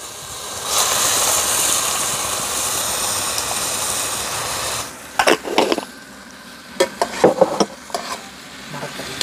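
Chicken pieces with turmeric fry in a pan over a wood stove, a steady loud sizzle for several seconds, then quieter frying broken by sharp clinks and scrapes of stirring.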